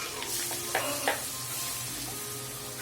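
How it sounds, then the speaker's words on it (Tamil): Ginger garlic paste frying in a pan and being stirred, a steady close sizzle with a couple of brief scraping strokes of the spoon, no voices. "இது போட்டுட்டு நல்லா கிண்டி விட்டுக்கோங்க"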